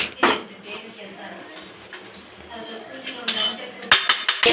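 Fried coconut is scraped from a pan into another pot with a metal spoon in a home kitchen, a series of close, bright metallic clinks and scrapes that grow busier toward the end, with no talk.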